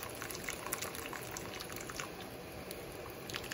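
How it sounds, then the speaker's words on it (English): Shrimp stock pours into a pan on the stove, a steady close splashing and bubbling wash of liquid with a sizzling undertone, continuous throughout and without speech. "Then I'm gonna add some of this stock here."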